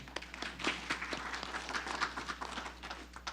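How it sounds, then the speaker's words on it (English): Attendees at a city council meeting give a brief round of applause, faint and somewhat distant, with scattered individual claps standing out in a quiet chamber. "Let's give them a round of applause."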